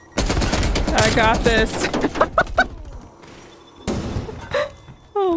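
Rapid gunfire from a player shooting in a first-person shooter video game comes in loud close bursts, with gaps and a final burst, while a person talks over it.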